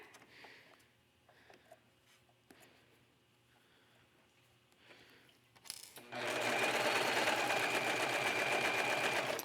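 A serger sews furry fabric for a hooded cape. After quiet handling and faint rustling, the machine starts abruptly and runs loud and steady with a fast, dense mechanical whir until the end.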